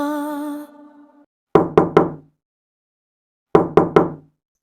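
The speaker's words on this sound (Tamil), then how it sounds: "கதவை தட்டிக்கிட்டே இருக்கேன்," A fist knocks on a door in two sharp bursts of three raps each, loud and close, separated by a silent pause, after a fading musical tone at the start.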